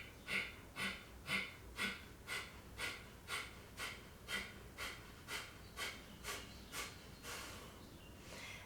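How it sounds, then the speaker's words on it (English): Yoga breathing, with forceful exhales pushed out through the nose and the mouth kept closed: a quick, even rhythm of about fifteen close, breathy puffs, heard alone. "push all the air out on an exhale, so that sort of sound, but keep the mouth closed"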